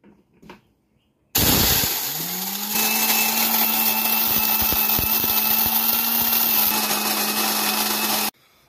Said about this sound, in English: So we're going to grind up our corn